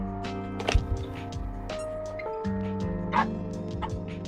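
A puppy indoors barks and yips in short, high, whiny bursts, scattered irregularly over a few seconds and heard fairly close.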